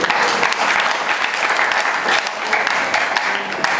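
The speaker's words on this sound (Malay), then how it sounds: "Beri tepukan." Steady applause from a reunion audience of the 1968 Hamzah school cohort, dense and continuous throughout at even loudness, with faint voices mixed in.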